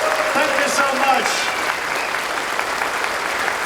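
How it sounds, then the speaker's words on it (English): Steady crowd applause at a convention closing ceremony, a dense wash of clapping throughout with faint voices mixed in. "another round of applause for Kamiru for organizing this"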